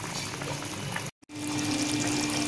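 Tamil oil brinjal kuzhambu curry simmers on a stove over medium heat, giving a steady close bubbling hiss that breaks off for a moment in a short silent gap before resuming.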